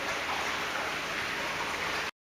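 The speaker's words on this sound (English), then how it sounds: "Hear that noise? That's used water constantly running to waste." Used water running constantly to waste from faulty toilets in a building plant room: a steady, loud rushing hiss with no change and no voices.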